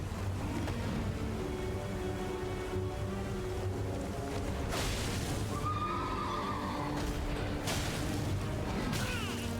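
Horse in the video game Elden Ring, a rotted horse, whinnying amid dense, loud game ambience and rushing noise, with neighs and bursts standing out partway through over about ten seconds.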